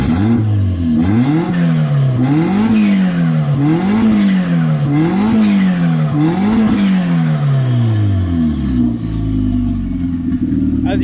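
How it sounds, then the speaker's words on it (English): A turbocharged Hyundai Getz engine revs repeatedly under throttle, rising and falling in about five loud, close pulls before settling back toward idle. "I'm gonna go on the gas for a bit"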